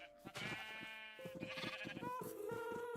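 Minecraft sheep bleating, several wavering bleats in quick succession, close and clear, with no talk over them.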